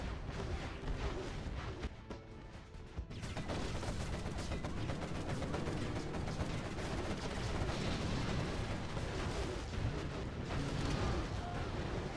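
Artillery cannons fire in the real-time strategy game Command & Conquer Generals Zero Hour, a dense, loud barrage of booming shots and explosions rolling on continuously, with a brief lull near the start.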